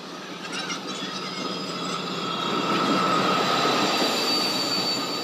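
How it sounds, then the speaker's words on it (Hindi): A train pulls into a station on the way to Bhalokpung: a steady rumble of rolling carriages with high, sustained wheel squeal and metallic clanks, growing slightly louder over the few seconds. "फाइनली हमारा ट्रेन पहुँच गया"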